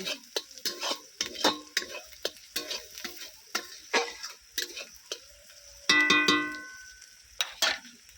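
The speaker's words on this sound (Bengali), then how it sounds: "লঙ্কা গুঁড়ো হলুদ গুঁড়োটাও খুব ভালো করে মশলার সঙ্গে কষিয়ে নেব" Ginger, garlic, chili powder and turmeric powder fry in a pan for a rohu fish curry, with repeated close scraping and stirring strokes over a soft sizzle and a brief louder burst of frying near the end.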